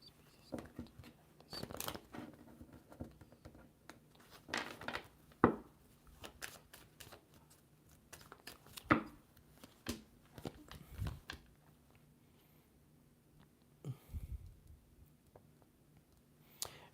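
Irregular papery flicks and riffles, a few sharper snaps among them, close and fairly quiet, with brief pauses between bursts.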